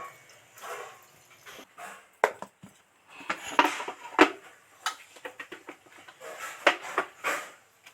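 Soaked black gram dal is ground by hand on a stone for making bori, heard as a run of close, irregular scraping and knocking strokes with short pauses between them.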